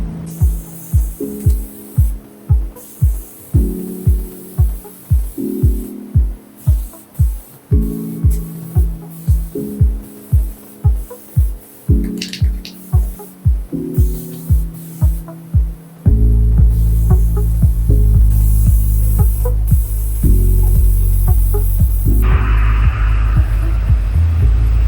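A garden sprayer works over a backyard garden, first as a rhythmic series of pumping pulses and then as a continuous, loud spraying hiss close to the microphone.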